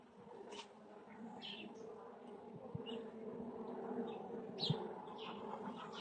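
Carniolan and Caucasian honey bees buzz around an open hive frame, a soft continuous hum with single bees flying close by and faint clicks from handling.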